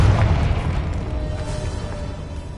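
Confringo blasting-curse explosion in the Hogwarts Legacy video game, a loud, deep, rumbling boom that fades slowly over a couple of seconds.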